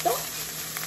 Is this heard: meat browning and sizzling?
yes